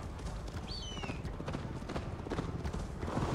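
A horse gallops in Assassin's Creed Valhalla, hooves clip-clopping in a quick, steady rhythm under a busy game soundtrack, with a brief whinny-like sweep early on.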